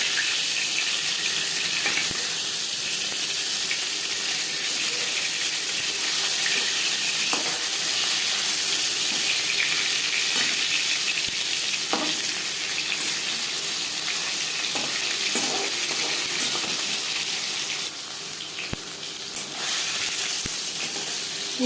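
Pieces of katla fish fry in hot oil with a steady, dense sizzle that holds close and even throughout, easing slightly near the end, with a few faint clicks of handling and no voices.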